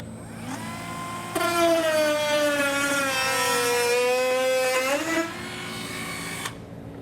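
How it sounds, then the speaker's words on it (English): A Dremel rotary tool cuts into bumper plastic, a high buzzing whine with strong overtones running for about five seconds, the pitch sagging and rising under load before it winds down. "we can go ahead and remove that material with a Dremel tool"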